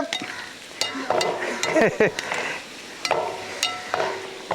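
Onions sizzle faintly in a pan while frying for vegetable biryani; a utensil scrapes and taps at intervals, with a few clinks and stirring sounds throughout.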